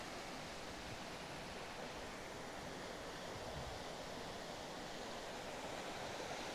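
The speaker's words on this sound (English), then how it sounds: "It's the running of the water." Water running along a mill stream in Sweden, a steady broadband rush heard close and continuous, with no voices over it.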